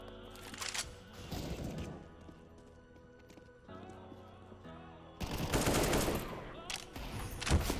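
Bursts of rapid gunfire in CS:GO crackle in two loud volleys, separated by a quieter stretch with tonal game music and faint background noise.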